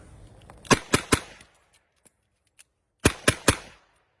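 Two quick volleys of three sharp revolver shots from a Smith & Wesson, loud and close, separated by a quiet pause with faint clicks of reloading.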